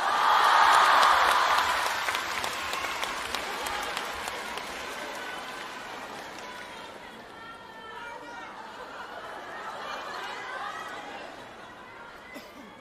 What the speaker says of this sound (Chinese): 感谢大伙的掌声鼓励